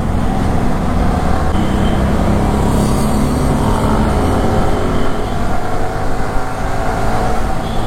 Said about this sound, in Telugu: చాలా ట్రాఫిక్ ఉంది.